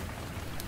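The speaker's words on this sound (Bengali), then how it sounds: "বাইরে তখন বেশ জোরে বৃষ্টি পড়ছে।" Heavy rain falls outside in the hills, a dense, steady broadband hiss of downpour filling the whole moment at moderate loudness.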